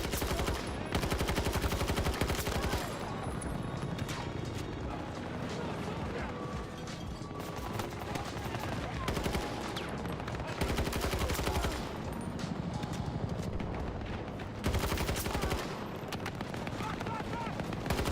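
Constant video-game battle fire from machine guns and rifles rattles in a dense, loud barrage for the whole stretch, with a voice talking underneath at times.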